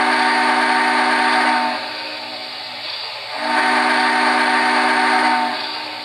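An MTH Hooterville Cannonball model steam locomotive, custom painted as C&FW RR #8, sounds its whistle in two long, loud blasts with a short gap between, close and alone.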